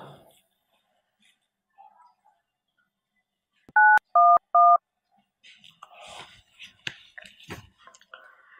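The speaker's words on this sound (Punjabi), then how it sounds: "ਲਾਈਏ ਫਿਰ ਏਟੀਐਮ ਨੂੰ ਫੋਨ।" A telephone keypad is dialed before a call: three short, loud DTMF beeps in quick succession in a quiet room, followed by faint rustling and soft breathy sounds.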